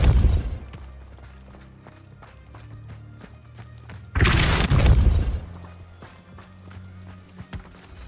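Depulso spell cast during combat in Hogwarts Legacy, a sudden loud booming whoosh in the middle, surrounded by rapid footstep-like thumps and clatter of the fight.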